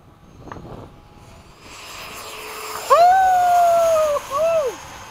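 FMS 70mm F/A-18 RC model jet flying past at an airfield, a rising ducted-fan whine that swells from distant to loud and close, with sweeping pitch changes as it passes; wind noise throughout.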